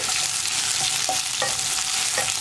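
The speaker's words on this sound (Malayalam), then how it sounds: "ഉള്ളി ഒന്ന് വഴന്ന് വരട്ടെ" Small onions sautéing in a pan for a Kerala okra and onion tamarind curry, a steady hiss of frying with a few faint stirring scrapes, close and continuous without speech.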